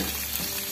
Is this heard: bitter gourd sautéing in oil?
yes